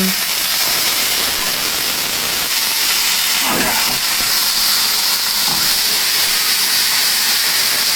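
Gnocchi fry in hot oil in a pan, a steady loud hiss and sizzle of steam throughout, close up, with faint shifting sounds as the pieces are moved.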